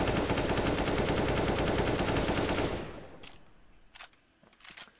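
An AK-47 fires a sustained full-auto spray in CS:GO, loud and continuous for almost three seconds before cutting off, followed by a few faint clicks and shuffling sounds.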